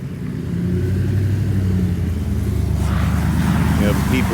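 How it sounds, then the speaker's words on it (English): Cars pass by on a street in a steady, loud rumble of traffic that swells slightly as vehicles go past close by, with engines droning continuously throughout. "people or cars are just passing by"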